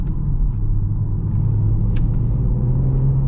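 A 2021-2023 BMW M440i convertible engine pulling hard under acceleration, a steady deep rumble with a rising tone holding loud and even from inside the car.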